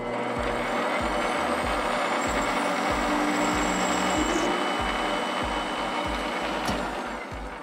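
A metal lathe turns an aluminum knob while a cutting tool hogs material down to shaft diameter, giving a steady, moderately quiet mechanical whine with regular rhythmic thumps throughout, trailing off slightly at the end.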